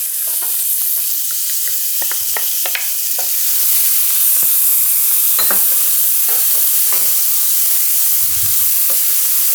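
Minced onion and garlic sauté in a pan with a steady, close sizzle. Irregular spatula stirs and scrapes sound over it, and there is no talk.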